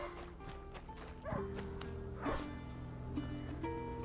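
A dog in the video game A Plague Tale: Innocence barks several times in short, irregular bursts over a low background hum.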